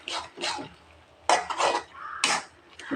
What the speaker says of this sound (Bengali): ডালটা তেলের মধ্যে মিশাবেন ভালো করে